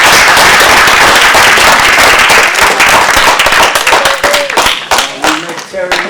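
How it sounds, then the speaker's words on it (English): Loud, dense applause from a gallery audience at a Jewish poster exhibit event, sustained for several seconds before thinning into scattered claps as a voice begins to speak over the end. "Let's give a round of applause to Terry Trieger."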